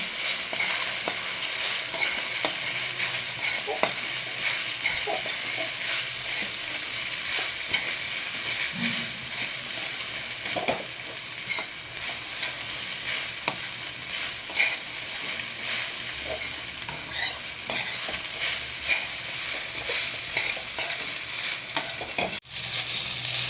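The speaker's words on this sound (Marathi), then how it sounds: "आता आपण याच्यामध्ये चवीनुसार मीठ टाकू आणि ह्याला व्यवस्थित हलून घेऊ" Sabudana being stirred with salt in a hot pan, with continuous scraping and stirring strokes over a soft, steady sizzle, close up and without talk.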